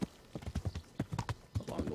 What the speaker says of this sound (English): we'll take my horse from here back to this town